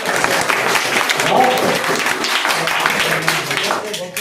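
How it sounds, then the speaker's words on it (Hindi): An audience at a mushaira poetry gathering in Sillod breaks into sustained applause, dense clapping from many hands filling the room steadily for several seconds, with some voices mixed in. "एक बार तालियां हो जाते सब काम करते।"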